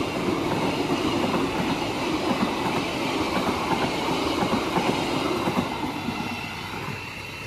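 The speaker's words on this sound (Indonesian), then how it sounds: "mohon maaf untuk King Willis, perjalananmu tadi dihambat oleh kutsel tambahan yang tadi masuknya terlambat 2 menit" A Kutojaya Selatan passenger train rolls past on the rails, a steady loud rumble with rhythmic clickety-clack of wheels and faint wheel squeal, continuous throughout and without voices.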